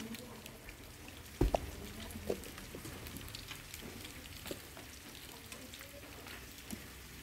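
Chayote being stir-fried with garlic in a pan gives a steady, quiet sizzle like light rain. A few sharper clinks and scrapes break through, and a voice speaks faintly at times.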